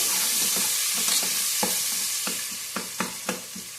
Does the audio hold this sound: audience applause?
no